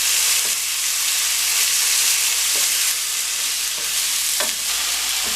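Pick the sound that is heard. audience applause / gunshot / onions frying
onions frying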